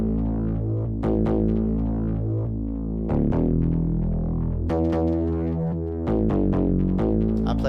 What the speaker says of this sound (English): It's a synth bass.